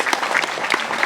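A live audience at a Balinese bondres comedy performance claps briefly, a quick patter of scattered hands with distinct individual claps close by.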